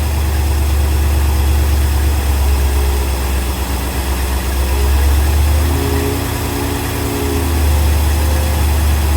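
A GM marine engine on a Silverton 34C boat idles steadily while warming up, a continuous deep low rumble with slight rises and dips in level, close and loud with no talking.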